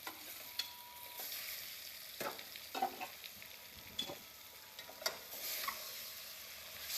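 Marinated mutton sizzles in a hot pan while a utensil scrapes and stirs it in several distinct strokes, close and clear with no talking.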